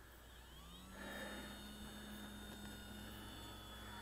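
An E-flite PT-17 electric model biplane takes off on its maiden flight, its motor whine rising in pitch and then holding steady at moderate distance under faint outdoor background noise.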